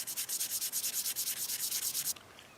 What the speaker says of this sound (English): I'm going to hand sand the belly of this knife handle.